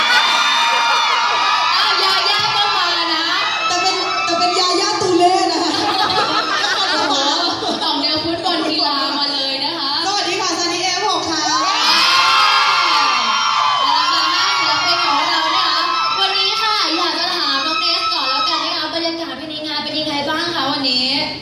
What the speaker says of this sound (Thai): แค่นอนยกมือนะ เสียงกรี๊ดก็ดังแล้วนะ